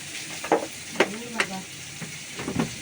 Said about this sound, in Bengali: এটা একটু লবণ দিয়ে আমি ভাজা ভাজা করবো